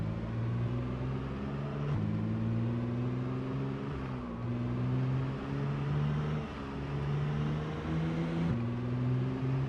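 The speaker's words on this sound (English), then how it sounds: "It's just us and our headlights and our very loud car." A very loud car engine drones steadily while driving at night in a zombie video game, a close, humming growl whose pitch dips and rises slightly every couple of seconds, with no other sounds over it.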